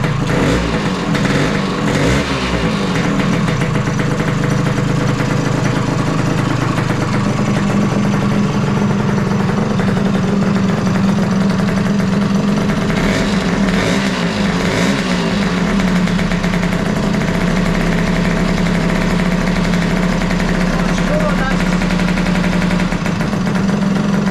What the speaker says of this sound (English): we're going to start it up, and you can hear how spectacular it sounds